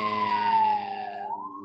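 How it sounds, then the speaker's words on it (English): A New York City emergency siren wails steadily, its pitch sliding slowly downward then rising again as it draws nearer, loud and alone with no talk. "The slow approach of a New York City siren."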